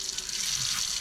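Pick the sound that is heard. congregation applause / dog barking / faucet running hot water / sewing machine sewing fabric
faucet running hot water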